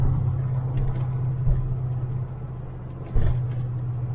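A 1985 Chevrolet Corvette driving on the road, giving a steady low engine rumble heard from inside with a few brief bumps and surges, with no voices.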